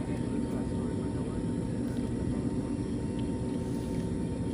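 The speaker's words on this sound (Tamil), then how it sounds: "எதிரில் ஒரு ஃப்ளைட்டு வேறு டேக் ஆஃப் ஆகுதுன்னு நினைக்கிறேன்" Steady broadband jet engine roar of an airplane taking off nearby during a first flight, a constant loud wash from inside the cabin with no clear voices.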